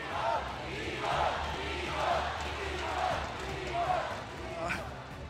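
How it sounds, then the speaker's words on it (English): Crowd cheering and shouting at an esports match, a steady roar with rising swells, heard under a voice speaking over it. "You hear the crowd? They're cheering for you."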